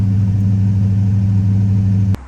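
A GM LS V8 (4.8, 5.3 or 6.0) with a surging, stuck-high idle from a faulty idle air control valve, holding a steady loud droning rev close by, then cutting off abruptly near the end.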